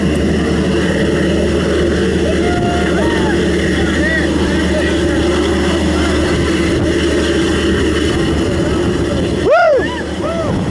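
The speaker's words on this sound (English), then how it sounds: "Jumping out of a perfectly good airplane?" Steady, loud drone of a light aircraft engine in flight fills the cabin before a skydiving jump, with wind roar throughout and voices talking over it.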